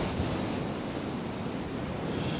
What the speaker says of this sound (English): Some nice big waves.